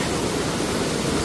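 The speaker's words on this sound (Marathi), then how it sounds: "खूप जोरात पाणी वाहतंय." Water flowing strongly at a temple waterfall, a loud, dense, continuous roar filling the whole moment with no voices.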